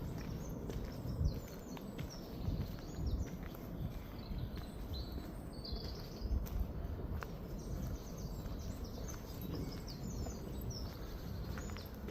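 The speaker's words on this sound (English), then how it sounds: "I do love the sounds of all different birds when we're walking around woodlands" Various birds sing in woodland within Wythenshawe Park: scattered high chirps and calls, fairly faint, over steady outdoor noise and the crunch of footsteps on a walking path.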